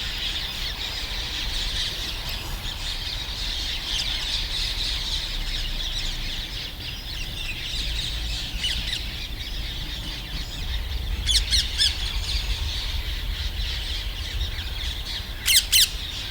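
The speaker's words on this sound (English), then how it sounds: "it's birds in my garden." Birds call in a garden in an outdoor field recording, with repeated squawking and chattering calls over a constant airy background hiss, plus a few sharper bursts of close calls near the end.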